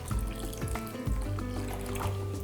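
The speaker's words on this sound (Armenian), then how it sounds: "սառը ջուր ենք լցնում և բլղուրի" Cold water poured from a vessel over soaking bulgur and red lentils in a bowl, a continuous close trickling and splashing with low rumbling undertones.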